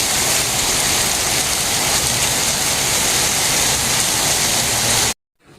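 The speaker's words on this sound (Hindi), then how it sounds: "इतनी तेज़ बारिश मैंने सच में पहले कभी नहीं देखी" Very heavy rain pours down in a village, a loud, dense, unbroken hiss that cuts off abruptly near the end.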